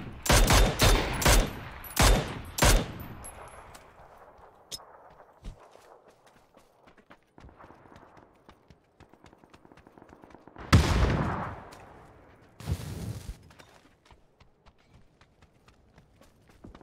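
Sharp gunfire bursts in PUBG, a rapid cluster of loud shots at the start, then scattered single cracks and two heavy blasts later, with quieter stretches between.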